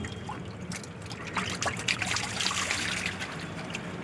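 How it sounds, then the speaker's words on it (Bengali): Water drains slowly out of a fish tank with a steady, close trickling and splashing that continues unbroken throughout. "জলগুলো বেরিয়ে যাচ্ছে আস্তে আস্তে"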